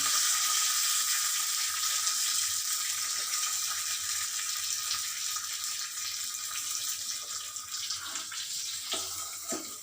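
Mustard seeds, cumin and curry leaves crackle in hot oil for an onion tambuli, a steady bright sizzle held close and evenly loud throughout, with a few sharper pops near the end.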